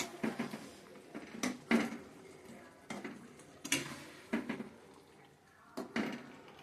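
Food being stirred in a pan, with a utensil scraping and knocking against the pan in irregular clusters of close, moderately quiet clacks and taps between short pauses.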